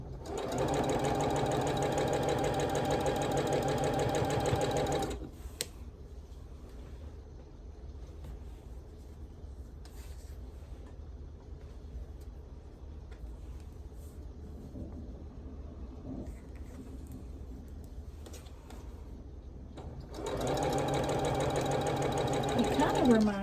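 A sewing machine stitches quilt pieces for a Blue Ribbon Weave quilt in two steady, loud humming runs at the start and end, separated by a long quieter stretch of faint handling sounds.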